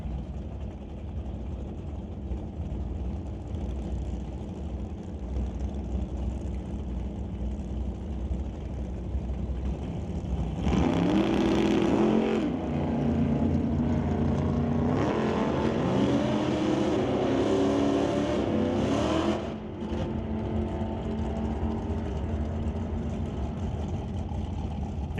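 A 1968 Chevy and a 1967 Chevy drag race cars launch and race, with a steady engine drone that swells into a louder, roaring pass of revving engines partway through before easing back to a steady rumble.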